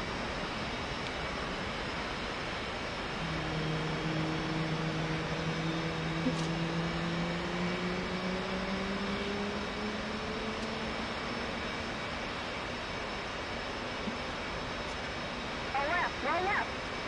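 An F-16 jet engine in the DCS flight simulator gives a steady, moderately loud drone with slowly sliding tonal whines rising across the middle of the clip, with a brief crackle near the end.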